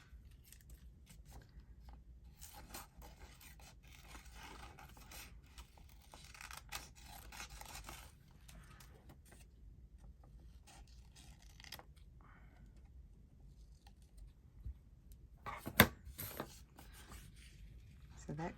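Scissors snip and slide through paper ephemera still glued on its original backing paper, quiet close cuts in short bursts with soft rustling between, while a person talks in places.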